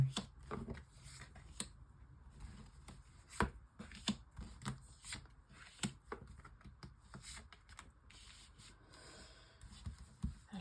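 Tarot cards are handled and shuffled for a nine-card love reading: a close, steady run of papery riffles and soft slaps with sharp flicks scattered throughout, and no talking.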